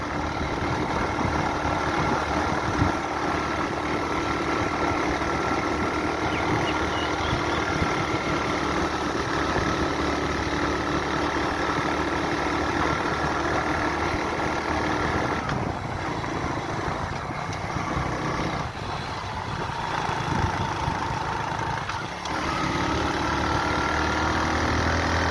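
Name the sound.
motorcycle engine running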